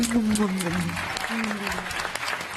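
Audience clapping fills the clip, steady and moderately loud, with a voice speaking or singing through it, in a French TV game show studio.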